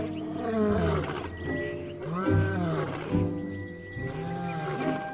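Wild lions roar in a series of deep, groaning calls in a dry-season river territory, several drawn-out roars rising and falling one after another, moderately distant with no voices over them.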